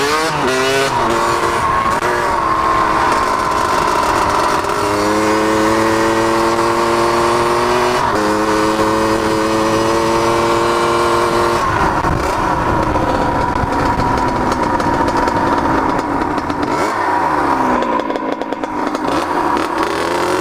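A motorcycle engine runs hard at speed, a loud, continuous buzzing whine that climbs in pitch, drops at gear changes and climbs again, heard close with wind noise and no talking.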